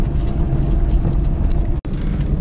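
Car rolling along a country road toward hayfields, with a loud, steady low engine and road rumble throughout and a brief dropout near the end.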